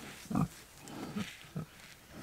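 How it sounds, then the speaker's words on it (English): A pig on a homestead grunts while being scratched, giving a few short, low, soft grunts spaced apart, close by against a quiet outdoor background. "This is the wrong end of a pig to be at."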